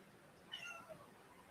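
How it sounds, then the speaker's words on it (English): A house cat meows faintly in the background during a live tech stream, one or two short calls heard far off and alone. "The cat has decided to make an appearance."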